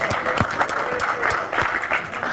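Audience applause at an Office XP Expert Zone tech event, a steady spread of clapping with a few louder individual claps standing out, fairly close and continuous through the short stretch.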